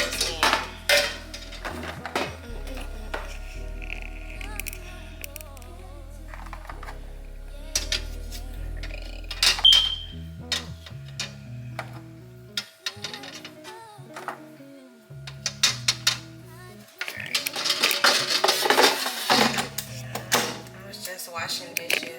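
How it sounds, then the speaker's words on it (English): Dishes, pots and cutlery clatter and clink during washing in a home kitchen, in irregular bursts with running water, loud and close. "Washing dishes, so yeah, excuse that."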